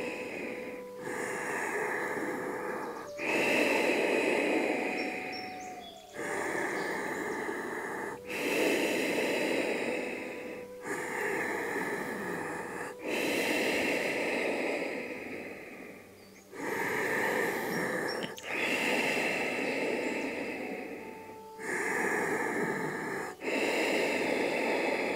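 Slow, deep breathing during a full-body yoga session, with long, loud inhales and exhales alternating in a steady rhythm of about eight breaths, each separated by short pauses.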